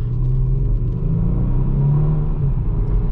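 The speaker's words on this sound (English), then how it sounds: "you can hear the turbos a little bit." A 2019 Kia Stinger GT AWD with turbo engine and quad exhaust drones steadily from inside the cabin during a test drive, a deep constant rumble with a faint whirring edge.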